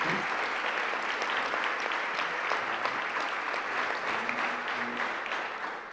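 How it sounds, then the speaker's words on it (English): Banquet audience at a university legacy award dinner gives a sustained round of applause, dense continuous clapping from many hands filling the room, steady and fairly loud before tapering slightly at the end. "Let's give them another round of applause."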